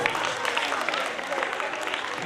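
Audience at a primary school Republic Day event applauding a first prize winner; dense, steady clapping from a crowd close by, with a voice faintly under it.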